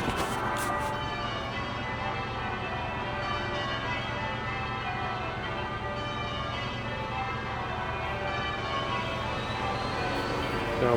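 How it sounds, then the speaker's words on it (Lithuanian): Church bells ringing from a church hidden under trees in London near Southwark Bridge after a half-past-twelve mass, a continuous resonant peal heard steadily under heavy traffic and road noise. "Bažnyčios varpai."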